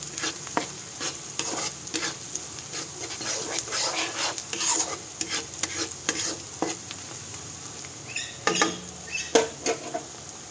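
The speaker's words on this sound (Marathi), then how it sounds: "हे पहा, छान आपल्याला ब्राऊन करून घ्यायचं आहे ऑनियन." Chopped onion being stirred and browned in a hot pan for pav bhaji, with steady sizzling and repeated scraping strokes of a spoon against the pan, close and alone.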